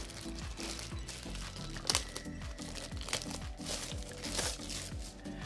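Computer mouse being unwrapped from its plastic bag at close range, with crinkling and rustling in quick repeated bursts and a couple of louder crackles, no voices.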